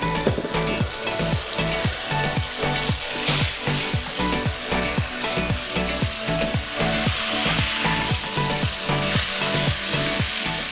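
Boiled whole wheat pasta sautéing in a sauce in a pan, a steady loud sizzle broken by regular scraping and tossing strokes of a spatula throughout, with no talking.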